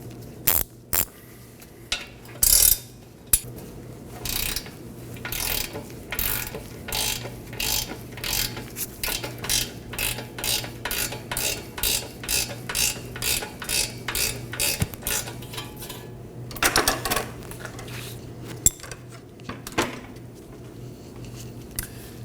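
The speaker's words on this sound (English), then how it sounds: "Support the bolt side with a wrench and remove the nut." Ratchet wrench clicking steadily as a nut is backed off a bolt, a long run of quick, even ratchet clicks with a few louder metallic knocks, close and alone, while working on the fuel pump module assembly of a 2018-2024 Chevrolet Equinox 1.5L L4.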